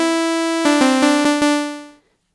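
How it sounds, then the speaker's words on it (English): Ableton Analog synthesizer playing its initialized default patch: a bright, buzzy harmonic tone held, then several quick repeated notes retriggered before fading out, solo with no voices. "So the initialize patch sounds like this."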